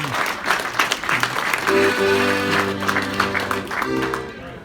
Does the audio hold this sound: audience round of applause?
yes